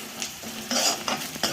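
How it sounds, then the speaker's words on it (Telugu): Onions fry in a pan as turmeric goes in for ponnaganti and fenugreek curry. Soft sizzling sits under several scraping stirs of a spoon against the pan, close and moderately loud, with no talk. "ఆనియన్ బాగా వేగాల్సిన అవసరం ఏం లేదు, కొంచెం వేగితే చాలు"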